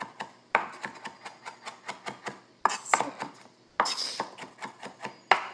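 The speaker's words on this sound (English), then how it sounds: "You really want to give it like a nice square chop." A knife chops food on a board in steady rhythmic strokes, about two per second, crisp close thuds with a few louder scraping bursts between runs, no voices over it.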